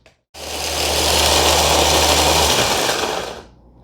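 Electric grinder chopping dehydrated garlic, a loud, close, continuous whirring roar that starts abruptly, holds steady for about three seconds, then winds down, with no voices.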